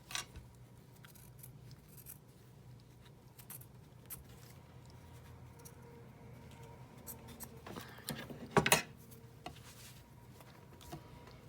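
Scissors cut paper in a quiet room with soft scattered snips, ending in one sharp, louder cut near the end.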